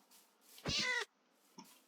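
A cat in the video game Minecraft lets out one clear, drawn-out meow, and a short faint chirp follows it.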